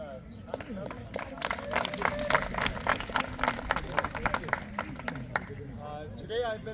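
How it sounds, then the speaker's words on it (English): A group at a baseball event closing in Uganda claps to welcome a speaker, uneven, loose hand claps building and then thinning out, mixed with chatter and voices in the background. "Let's give him a hand clap."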